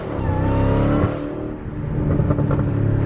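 A Dodge Hellcat's engine revs and accelerates loudly close by, with the pitch rising and dipping over a few seconds and no talking.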